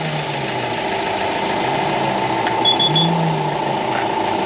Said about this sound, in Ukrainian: Так, так, машинка заведена.